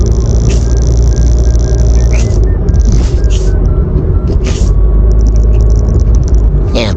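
Traffic on a busy Tokyo road heard from a moving car, with a steady low engine and road rumble, passing vehicles and occasional rattles and mechanical clicks throughout.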